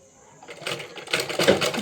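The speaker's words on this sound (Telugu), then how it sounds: "నేను ఒక చేతితో కుడుతున్నానండి" A sewing machine stitching falls onto a saree, starting quietly and building into a close run of quick, rattling mechanical clicks that grows louder toward the end.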